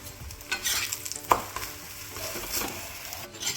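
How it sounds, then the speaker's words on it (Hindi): A paratha made with turnip and fenugreek crackles as it roasts in ghee on a hot griddle, a steady sizzle broken by a few soft scrapes and a sharp clink near the start of the flip. "ये देखो पराठा हमने पलटते पलटते दोनों साइड से सेक लिया है"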